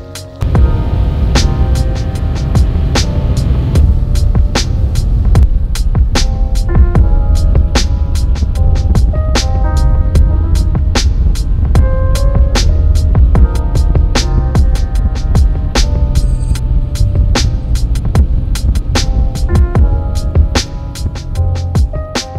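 Big truck engine idling loudly after a cold start through large exhaust tips, a steady deep rumbling drone with a rapid pulsing throb that continues throughout, close by and unbroken.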